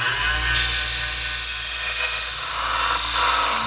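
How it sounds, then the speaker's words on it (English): A belt sander roughs down a metal workpiece, giving a loud, steady, close abrasive hiss with a constant motor hum underneath. "I'm going to rough a lot of it off here on the belt sander"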